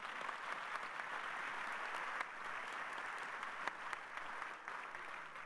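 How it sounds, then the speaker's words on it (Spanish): An audience applauds panelists at a high-level plenary dialogue session, a sustained and even wash of clapping from a large room, fairly faint, with no one speaking over it. "Yo quisiera empezar con un enorme aplauso aquí a los panelistas"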